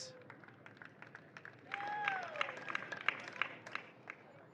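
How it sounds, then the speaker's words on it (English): Crowd at an outdoor karting podium ceremony for a Mini Under 10 race claps and cheers faintly at a distance, scattered claps swelling into a thicker burst partway through, with some whistles. "please give a huge round of applause for Lorenzo Zucchetto"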